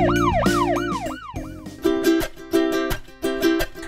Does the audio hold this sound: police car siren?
yes